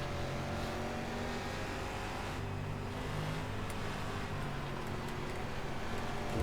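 A Limited Late Model race car at the Eldora dirt oval in iRacing drones at steady high revs, a continuous loud engine roar with slight pitch wavers throughout.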